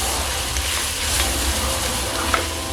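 Minced garlic sizzles and fries in a pot, a steady close crackle with faint stirring scrapes and no talk.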